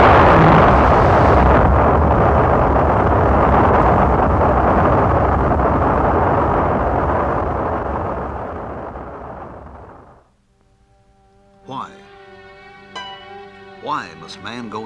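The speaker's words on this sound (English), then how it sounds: "This launch carried an Earth satellite into orbit." Rocket launch carrying an Earth satellite into orbit, a loud sustained rumbling roar that fades away over about ten seconds, followed by orchestral music.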